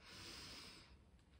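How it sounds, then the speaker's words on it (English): A deep breath drawn in at the close of a meditation, a soft, airy inhale through the nose that swells and then fades, quiet and near. "taking a deep breath in"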